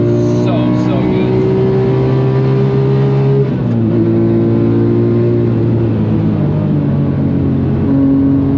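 Porsche 997 GT3 RS engine accelerating on the Nürburgring, a loud, close, steady high-pitched wail with a shift partway through, climbing again as the revs build.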